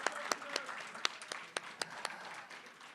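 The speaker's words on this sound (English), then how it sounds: "Ladies and gentlemen, a round of applause for the debaters." Applause from a debate audience for the debaters at a human rights day debating final: a handful of scattered, fairly close claps over a soft crowd murmur, thinning out over a few seconds.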